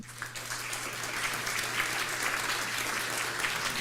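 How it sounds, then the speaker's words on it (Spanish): Audience applause for an honoree at a university law faculty tribute ceremony, steady dense clapping sustained throughout at moderate loudness with a faint low hum underneath. "Les pido un aplauso para nuestro homenajeado."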